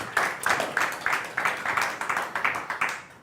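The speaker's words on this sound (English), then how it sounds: "a big round of applause for those guys for showing up" A small audience at a brewing industry talk in Sacramento gives a short round of applause, a few people clapping in a loose, fairly even rhythm, moderately close, with no talking over it.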